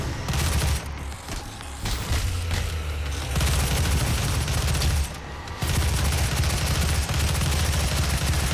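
Heavy, sustained weapon fire in the shooter game Doom, dense and continuous with booming low-end bursts throughout, briefly thinning around the middle before resuming at full intensity.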